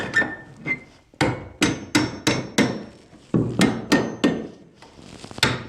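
A hammer taps a metal joist hanger tight against a wooden beam, about a dozen sharp, close strikes in uneven groups with short pauses between, heard alone.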